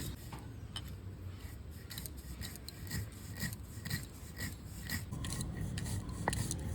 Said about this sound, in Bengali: শুকনো পাটাতে বেটে নিচ্ছি, পুরো শুকনো করে।